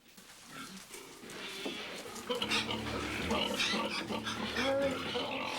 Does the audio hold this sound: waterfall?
no